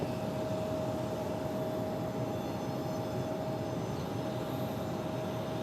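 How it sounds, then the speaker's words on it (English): A Skywest CRJ regional jet arriving at Phoenix Sky Harbor airport, a steady broadband engine roar with a faint tonal whine running throughout, even in level and distant rather than close. "Next arrival, CRJ from Yuma, Arizona, Skywest 4948"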